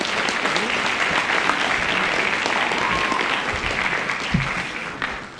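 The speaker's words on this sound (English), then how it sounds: "A round of applause" A school band concert audience applauds with dense, sustained clapping that fills the hall and fades slightly near the end.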